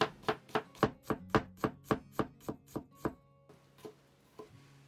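A knife chops peeled garlic on a cutting board in a home kitchen: a dozen crisp, evenly spaced thwacks, close and clear, then a few slower, softer strokes near the end.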